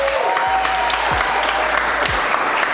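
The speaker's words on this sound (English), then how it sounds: "King Flipper, big round of applause." An audience claps and cheers steadily to welcome the speaker King Flipper on stage, a dense, continuous round of applause with a few scattered louder claps.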